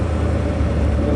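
A 1975 Chevrolet Monza with a 350 V8 idles with a low, steady rumble, loud and close, for about a second with no talk over it.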